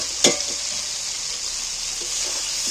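Fried potatoes are dropped into hot oil and masala in a pan for a Bengali egg dish, giving one sharp sizzling burst at the start and then a steady hissing fry that carries on alone to the end.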